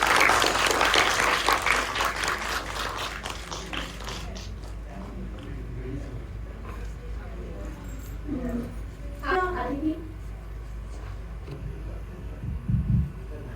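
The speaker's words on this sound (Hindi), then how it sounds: "जोरदार तालियों से उनका स्वागत करेंगे।" Audience applause at a cultural stage event featuring a Vande Mataram play, loud clapping for about four seconds that fades out, then someone speaking over a low hum.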